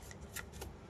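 Tarot cards drawn and shuffled from a deck during a reading, giving a few soft, quick papery flicks and rustles close by in a quiet room.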